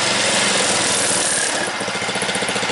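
Honda HRU216M1 walk-behind lawn mower engine running at high speed, a loud, close, steady buzzing drone that eases slightly toward the end with a pulsing beat.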